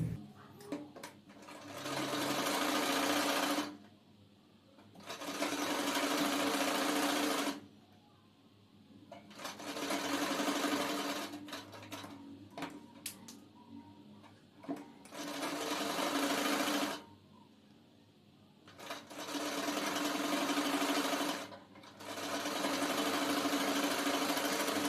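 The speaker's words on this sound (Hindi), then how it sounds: "मैं इस तरीके से इस पर सिलाई लगाऊंगी।" Sewing machine stitching the collar of a half-net blouse, running in several long bursts of steady mechanical whirring separated by short pauses, close and fairly loud.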